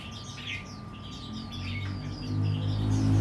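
A wild-caught songbird in a cage sings close by, a run of quick bright chirps and warbled phrases over a low background hum that grows slightly louder toward the end.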